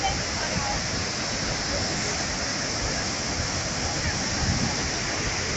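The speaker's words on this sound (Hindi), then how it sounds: "और जो पानी गिर रहा है वो बहुत ही हाइट से गिर रहा है।" High waterfall pouring over the marble rocks of Bhedaghat on the Narmada River, a dense, steady roar of falling water that fills the whole span at constant loudness with no break.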